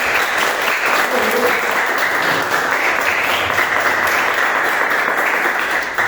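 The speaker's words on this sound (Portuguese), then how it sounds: "E uma salva de palmas ao Senhor Jesus Cristo." Congregation applause during a Friday church service, a dense, loud, sustained wash of clapping from many people that holds steady for about six seconds.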